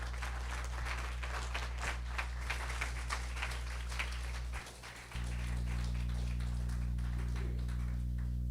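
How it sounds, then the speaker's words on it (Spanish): Church congregation clapping in praise at a service, a moderate ragged applause with a steady low hum underneath, briefly dipping before the hum rises again as the clapping thins out. "Tu iglesia te da la gloria con este aplauso"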